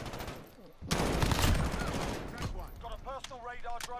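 Video game gunfire erupts in a loud, dense volley of rapid shots lasting about a second and a half, then breaks into scattered pops and tonal effect sounds.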